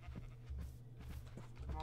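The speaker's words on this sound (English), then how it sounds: "Oh, the sheep are following me as well" Sheep bleat in the Minecraft video game, several short nasal calls repeating over a low steady background hum, fairly faint.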